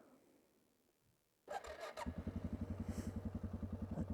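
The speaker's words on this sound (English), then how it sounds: "Fire up the big single cylinder." Suzuki KingQuad 750 ATV with a big single-cylinder engine starting: a brief whirring crank, then the motor catches and settles into a steady, thumping idle close by.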